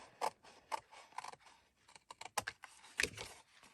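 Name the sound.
cutting up paper board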